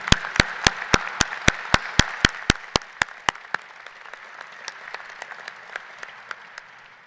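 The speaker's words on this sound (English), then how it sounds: "graduates, let's give them a round of applause." At a university commencement ceremony, applause fills a large hall. Sharp rhythmic hand claps ring out close by over the crowd's clapping, then the close claps stop and the applause fades away.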